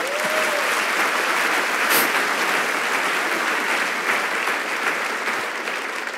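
A church congregation claps loudly and steadily during a sermon, a thick continuous wall of applause lasting several seconds with a few shouts rising above it.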